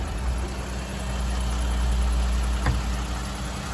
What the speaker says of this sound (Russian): А мотор работает.